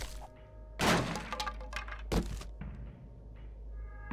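Opening a wooden loot crate in the survival video game 7 Days to Die: two sharp thuds and cracking hits over a steady low game ambience, with a few lighter clicks between them.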